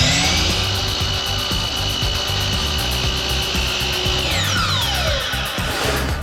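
Power saw making a miter cut in wood for a floating shelf in a workshop, a loud steady grinding and rasping cut that rises into a sweeping whine near the end as the blade finishes.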